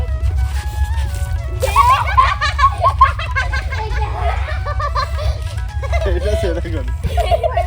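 Water splashes and sloshes onto people at an outdoor Holi celebration, bursts of splashing amid excited shouting and children's voices talking throughout.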